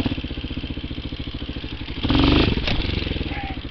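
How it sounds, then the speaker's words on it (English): Motorcycle engine idling close by with a steady low chug, then a brief light blip of the throttle that rises in pitch and volume before settling back to idle, with no voices. "a light bump on the throttle"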